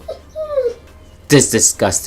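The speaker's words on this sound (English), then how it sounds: "My dog is in heat. and he's going crazy." A dog in heat whimpers with thin, rising whines, then breaks into a quick run of loud, close yips.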